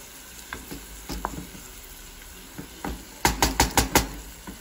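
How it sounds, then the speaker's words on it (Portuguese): Garlic and onion fry in a pan with a soft, steady sizzle, broken by scattered scrapes and a closing run of five sharp, rhythmic knocks of a utensil against the pan; nobody speaks. "Então eu vou colocar tudo ali na panela e fritar."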